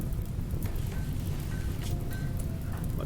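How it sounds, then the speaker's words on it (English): Steady rain patters in RimWorld, a dense, even wash with a few sharper drops across three seconds and no talk. "Much needed rain."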